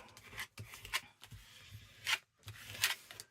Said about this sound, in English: Let me use my scraper just to flatten that.